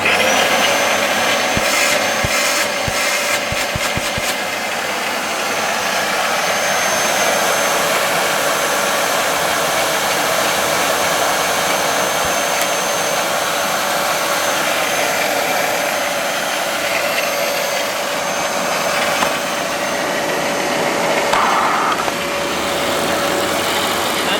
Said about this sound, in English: Let's suck up some of this sawdust, do we?